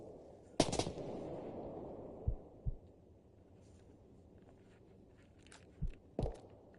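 Sparse video game gunfire pops out of a quiet background, with a sharp burst near the start, two softer single shots, and another pair of shots toward the end.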